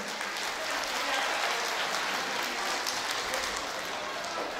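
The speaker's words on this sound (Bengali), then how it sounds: "জোরে একটা করতালি দিব আমরা" Applause at a school prize-giving ceremony, a steady dense wash of clapping from an audience, held at an even level throughout with no clear pauses.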